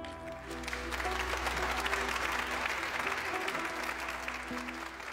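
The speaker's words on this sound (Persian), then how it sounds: "یه بار دیگه تشویق کنین این مادر." Studio audience of a TV show applauding a mother, sustained clapping that swells and holds, with music and a voice running underneath.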